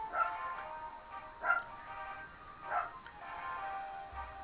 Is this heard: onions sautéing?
no